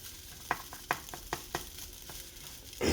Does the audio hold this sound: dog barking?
no